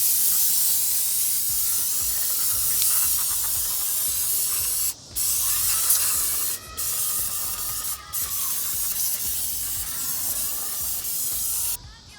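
Cleaner sprayed onto the throttle body of a Dodge Ram 5.7 Hemi, a loud steady hiss held for long bursts with a few short breaks between them, close by and heard on its own.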